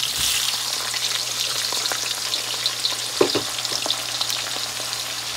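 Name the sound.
chopped onion frying in oil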